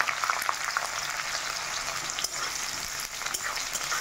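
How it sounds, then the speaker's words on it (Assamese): Onions with cumin seeds fry in hot oil, giving a steady, close crackling sizzle that stays fairly even throughout, with no voices. "পিঁয়াজখিনি ভাজি ল'ম"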